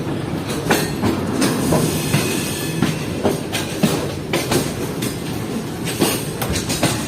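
The Tezgam train pulls out of Nawabshah railway station, its wheels keeping up a loud continuous rumble and clickety-clack with sharp rail knocks and faint squeals.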